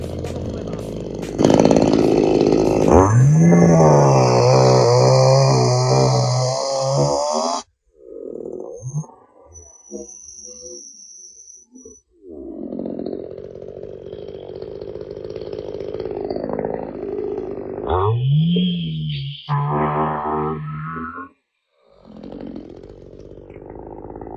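A Maruyama MCV3101TS pruning chainsaw revs up and bites through wood in two separate cutting runs, loud and close, its pitch dropping under load and rising again between cuts.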